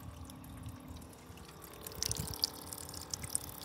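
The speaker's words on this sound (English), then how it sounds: "We are draining our excess water" Excess water drains out of a camping cooler through an electric faucet during van camping, a faint, steady trickle and splash with a few sharper drips toward the end.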